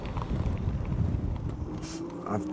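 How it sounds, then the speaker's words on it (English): Wind buffeting the microphone outdoors during a midnight ride on a Ridstar Q20 e-bike along a trail, a steady low rumble throughout with a faint tonal whine near the end. "wind's picking up"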